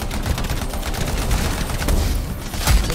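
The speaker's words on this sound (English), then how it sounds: "Chain gun." Chain gun firing in the video game Anthem, a dense continuous stream of rapid gunfire and booms filling the whole stretch.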